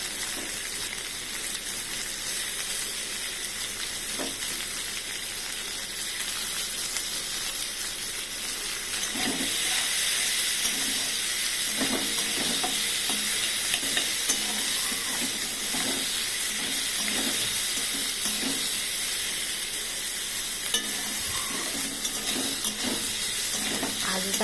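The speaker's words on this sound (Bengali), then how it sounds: "মোটামুটি ভাজা হয়ে যাচ্ছে, পেঁয়াজ কুচি করে রেখেছি ওইগুলো দিয়ে দিচ্ছি।" Chopped onions frying in a pan with prawns give a continuous close sizzle and steamy hiss, with occasional light stirring taps and clinks throughout, no one talking.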